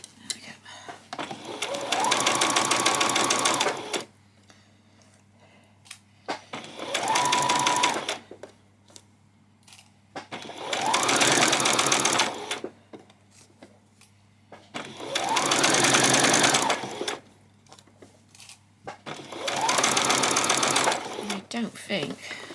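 Sewing machine back stitching a peasant skirt seam in five separate bursts of rapid whirring, each a few seconds long with quiet pauses between, close and clear.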